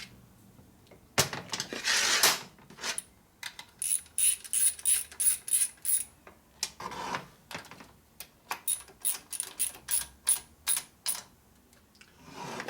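A ratchet wrench torques bolts on a Harley shovelhead stroker engine, giving short bursts of sharp, close clicking that repeat with brief pauses between them.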